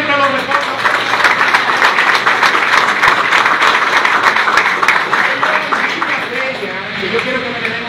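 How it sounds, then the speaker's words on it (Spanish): A crowd at a political party gathering in Higüey applauds loudly and steadily, a continuous patter of clapping with voices mixed in throughout. "Yo quiero que me den un fuerte aplauso a esa señora."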